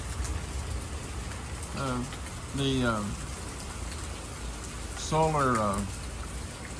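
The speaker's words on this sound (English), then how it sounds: "Love the sound of rain." Rain falls steadily on a garden, a constant soft hiss of drops throughout, while someone speaks briefly over it a few times.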